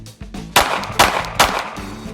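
A handgun fired three times at a concealed-carry training range: three loud, sharp reports spaced about half a second apart, close and clear over a quiet background.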